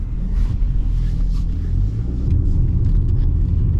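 A Nissan Maxima on a test drive after rack and pinion steering repairs gives a steady low engine and road rumble from inside the cabin, with light wind buffeting and a few faint clicks, and no speech.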